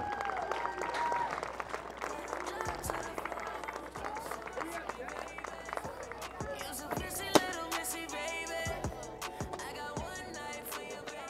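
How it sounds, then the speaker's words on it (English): Crowd applause for four seniors on Senior Day at a University of La Verne softball game against Pomona-Pitzer, faint, scattered outdoor clapping heard from a distance under an announcer's voice. "let's give them all a round of applause for their time spent here at the University of Laverne."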